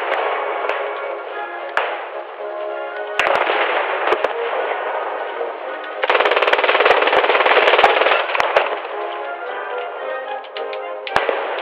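Gunfire and explosions from the video game Post Scriptum, including a thrown frag grenade, sound as dense, loud, continuous bursts of rapid fire with sharp cracks throughout, swelling louder in the middle, with no talking.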